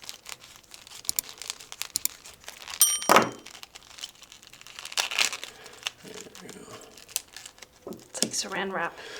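Crinkling plastic wrap is unwrapped from a 1/6 scale Vietnam War US Army corpsman figure, rustling in bursts of crackles and tearing, with a few sharp thunks and a bright ding midway.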